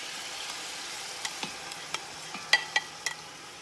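Onions and celery frying in a pan: a faint, soft sizzle with light scattered clicks and taps as the vegetables are stirred, quiet and close, no voices.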